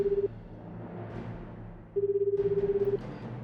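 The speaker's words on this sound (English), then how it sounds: "The phone rang several times" Telephone ringing in the 428: Shibuya Scramble video game, a pulsing electronic warble in two bursts, a short one and then a longer one, heard over quiet background music.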